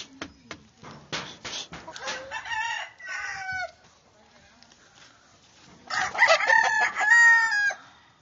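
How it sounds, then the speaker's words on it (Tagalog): Several chickens cluck and a rooster crows loudly nearby, with short sharp clucks early on and a long ringing crow near the end. "Maraming manok dito, marami."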